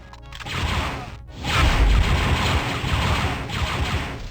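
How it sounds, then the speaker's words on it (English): Laser blaster shots from Star Wars: Dark Forces crackle in loud, dense volleys, a busy rapid-fire barrage with crashing impacts that swells and persists across the whole stretch. "That one thing that the game needed to get right, which is shooting Imperial douchebags with lasers"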